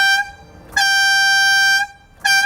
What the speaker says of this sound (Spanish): Una es el claxon, lo presionas y